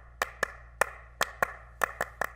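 Two pairs of hands clap out an interlocking pattern, a crisp, dry, close series of sharp claps in an uneven, syncopated rhythm with no other sound.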